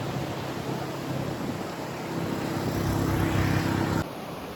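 A steady, loud rush of surf rolls toward the shore, swelling over a few seconds before easing off, with a low hum underneath.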